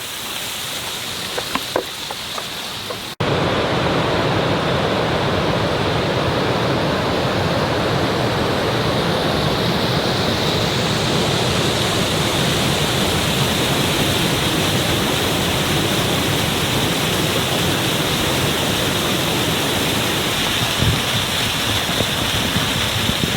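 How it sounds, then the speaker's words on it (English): A waterfall pours inside an underground tunnel that leads to a beach during heavy rain. It starts abruptly as a loud, steady, broadband roar that continues unbroken, with no voices. "Should we consider that a waterfall or not?"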